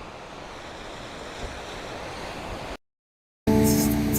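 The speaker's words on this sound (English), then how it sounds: "You can listen to it right here in the ocean" Steady, full roar of ocean surf breaking along the San Diego shore, with wind rushing across the microphone, a brief dropout near the end, then a louder burst of surf and wind.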